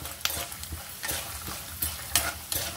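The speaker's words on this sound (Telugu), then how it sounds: "ఇలా దోరగా వేయించుకోవాలి, మాడిపోకూడదండి పప్పులు" Lentils dry-roasting in a pan for sesame pulihora, stirred with a spatula: repeated scraping strokes over a continuous crackling sizzle, close and fairly loud.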